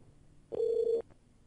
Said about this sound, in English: I'm going to use my VoIP desktop phone in order to call into a point of contact